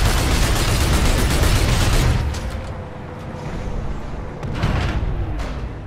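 A small tank blown apart in PlanetSide 2: a heavy roaring blast sustained for two seconds, then a dropping rumble with further distant booms and crackle.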